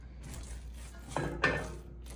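Puerto Rican arroz con gandules being stirred in a pot: a few soft scrapes and clinks of a utensil against the pot, quiet, with two sharper knocks near the middle.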